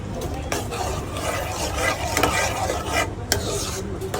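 Kaju gathiya curry with fresh coriander leaves being stirred in a pan, a steady scraping and rustling mix with a light sizzle underneath, close and continuous, a few sharper spoon knocks along the way.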